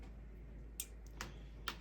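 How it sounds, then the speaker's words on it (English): A few soft, separate keystrokes on a computer keyboard during a MacBook setup, quiet taps at uneven intervals over a steady low electrical hum. "I'm not typing something correctly, obviously."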